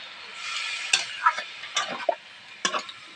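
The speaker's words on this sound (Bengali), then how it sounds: "একটু নাড়ি চাড়িয়ে নেবো।" Spices are stirred in a cooking pot, a soft background sizzle punctuated by several sharp clicks and scrapes of a spoon against the metal, close and fairly quiet, with no talking.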